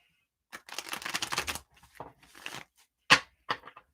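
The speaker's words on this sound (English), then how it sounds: "Let's go ahead and shuffle up for Debbie." Tarot cards shuffled by hand during a live reading: a dense, papery riffling burst, then a few shorter scattered taps and slaps of cards, close up with no talk over them.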